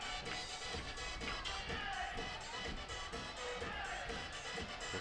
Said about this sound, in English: Oh, just love this atmosphere here. Big crowd on hand.